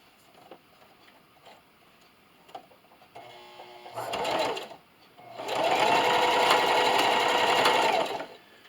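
A sewing machine backstitches a fleece hat seam at a half-inch allowance, with soft ticks first, then a short burst of rapid stitching and a longer, louder sustained run of close mechanical whirring.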